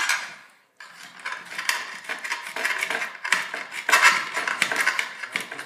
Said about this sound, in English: you want to take the knife again. We're going to be just finely chopping it